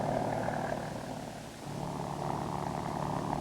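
Steady turbine drone and rotor throb of a Kaman HOK helicopter powered by a Lycoming turbine engine, running continuously and fairly close with a brief dip midway, no voices.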